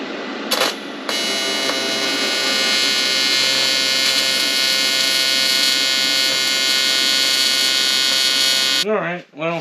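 Welding on a car's radiator mount and blow-off valve bracket: a loud, steady electric buzz runs unbroken for nearly nine seconds, then cuts off abruptly, followed by a brief voice.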